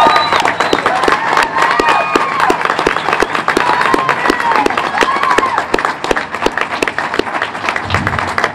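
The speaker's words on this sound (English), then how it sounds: "So I really would just ask everybody to give Edwin a hearty round of applause." A loud, hearty crowd ovation at a community event supporting Puerto Rico: dense clapping with sharp individual claps near by, plus cheering, whoops and shouting voices mixed in throughout.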